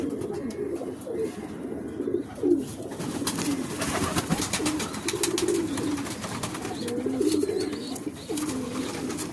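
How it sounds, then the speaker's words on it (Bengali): Fulshira pigeons coo softly and repeatedly at close range in low, rolling calls, with faint background rustle and no speech. "আজকে আপনাদের অন্য একটা পায়রা দেখাবো, ফুলশিরা পায়রা"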